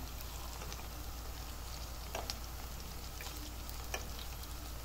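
Chicken cutlets frying in oil give a steady, close sizzle with faint popping and crackling throughout, with no talking.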